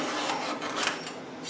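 A hand file rasps against the teeth of a chainsaw chain during sharpening, a steady close scraping with repeated strokes running through the short clip, no voices.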